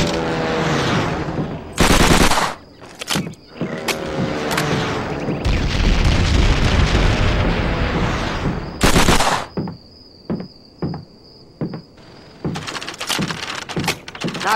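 Thompson submachine gun fired at targets in a stable in Call of Duty World at War on PS2, loud close bursts and single shots separated by pauses, with bullet impacts and a few rapid isolated cracks near the end.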